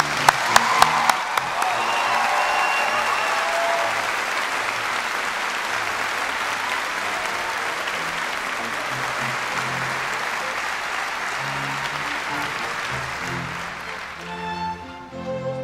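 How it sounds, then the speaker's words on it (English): Large audience applauding graduates at a university postgraduate graduation ceremony: a few sharp opening claps swell into loud, sustained, even applause from a big hall, with faint cheering, tapering near the end. "Please join me in a round of applause to the graduates."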